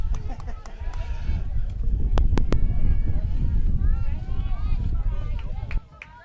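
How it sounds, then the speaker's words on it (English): Wind gusts across an outdoor high school softball regional final rumble as a low, steady roar on the microphone, with commentary heard over it and a sudden drop to quiet at the end. "Wind actually getting a little too windy out."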